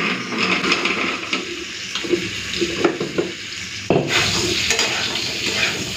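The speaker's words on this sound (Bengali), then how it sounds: "পটল আলুটা ভাজা হতে হতে আমি মশলাটা বেটে নিই।" Potatoes and pointed gourd fry in oil in a pan, hissing steadily. Intermittent scrapes and clinks of stirring utensils cut through, and the sizzle surges louder partway through.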